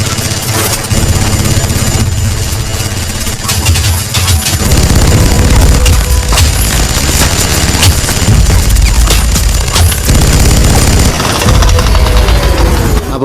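Rapid, sustained automatic gunfire rattles loudly through a Telugu action movie scene (Eagle), dense and continuous over a droning rumble, with music fading out early.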